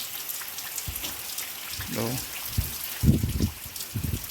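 Heavy rain pours down in a dense, constant hiss, while someone speaks briefly over it.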